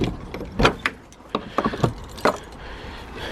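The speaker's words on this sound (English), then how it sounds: "Would help if I could get my lock open." A shed padlock is worked open with metallic clicks and jangling key sounds, several sharp close taps spread across a few seconds, with no talking.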